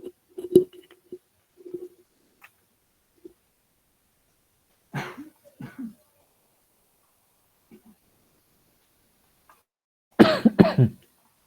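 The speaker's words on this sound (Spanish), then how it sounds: "una tos que realmente no se me quiere quitar con nada" Several short, sharp coughs from a lecturer with a persistent cough spread through quiet stretches, with a louder burst of harsh coughing near the end.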